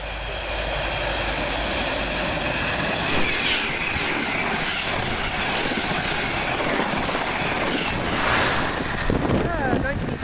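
A Greater Anglia Liverpool Street to Norwich express train passes near Kelvedon, a loud broadband roar with wind buffeting that swells and holds for around ten seconds, no speech over it.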